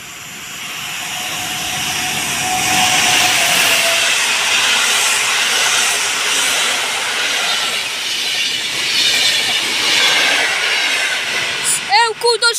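Intercity train passing through Warszawa Rembertów station, a loud rushing roar of wheels and cars that swells quickly and holds for several seconds before fading, ending in a few rapid rattling beats.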